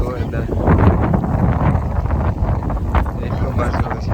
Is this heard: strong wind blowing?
yes